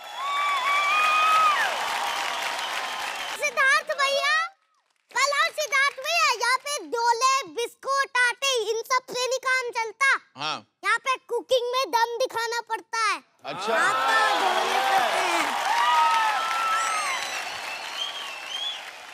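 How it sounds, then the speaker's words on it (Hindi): A studio audience on the cooking show Kitchen Champion bursts into loud applause for a guest, a full roar of clapping that stops while people talk, then swells up again just as strongly. "तो इनके लिए एक बार जोरदार तालियां हो जाए"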